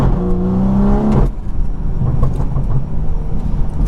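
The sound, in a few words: car engine heard from inside cabin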